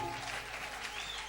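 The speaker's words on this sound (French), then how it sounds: "Je voudrais que tu acclames très fort pour la gloire de Dieu" A church congregation applauds loudly, steady dense clapping from many people filling a large room without pause.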